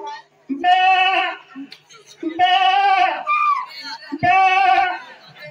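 A voice imitates a goat at a Holi children's cultural programme, giving three drawn-out, wavering bleats separated by short pauses, loud and close.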